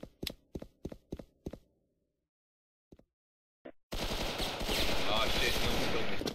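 Gunfire in the video game Mafia: five quick, loud shots in a rapid burst, then a pause with two faint isolated pops, before a dense, sustained roar of continuous noise takes over.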